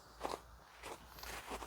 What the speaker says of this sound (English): It's very crunchy underfoot.